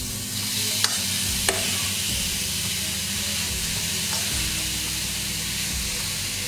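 Garlic fries in a pan with a steady, close sizzle and hiss, and a couple of faint utensil taps early on, with no one talking.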